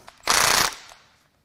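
A Milwaukee impact wrench hammers on a car part during a 2020 Chevy Malibu 1.5 engine repair, giving one loud, dense half-second rattling burst that stops abruptly and trails off.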